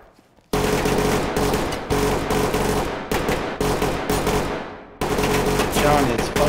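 Rapid, dense automatic gunfire from the game Ready or Not rips in loud sustained bursts, each run cut by brief pauses, after a quiet start.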